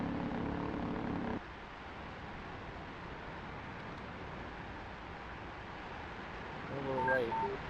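A helicopter in the DCS flight simulator game runs with a continuous rotor and engine drone, steady and moderately loud, with a few brief synthetic cockpit tones near the end.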